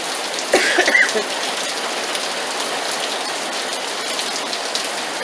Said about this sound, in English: Really raining. It never rains in Vegas.